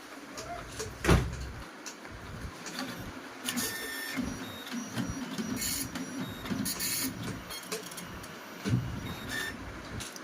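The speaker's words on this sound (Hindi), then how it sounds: "अब हम एक पेपर डालेंगे।" SBI passbook printer drawing in a sheet of paper, a series of close mechanical clicks, whirs and short feed bursts over a steady background hum, with a sharp clack near the start.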